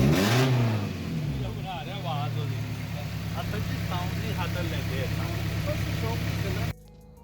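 A 1991 Nissan 240SX SE fastback with its original KA24 engine and automatic transmission revs up from a steady idle, a rising engine drone under overlapping voices and chatter, cutting off abruptly near the end.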